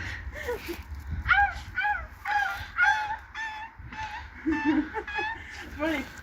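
Two people imitate seagull calls with a run of rising, squawking cries, repeated in uneven bursts close to the microphone, with breaths and gaps between them.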